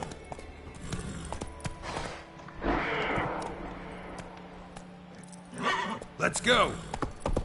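Roach the horse in Witcher 3 whinnies and thuds along with hoofbeats, close and loud in short bursts, while someone speaks over it.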